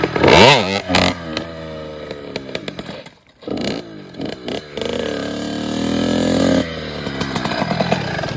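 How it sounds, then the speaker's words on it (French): A motorcycle engine revs hard during wheelie practice, then cuts out and stalls, drops to near silence, and sputters back into a rising, buzzing rev. "Là j'ai calé vite fait parce que j'ai pas pris l'embrayage"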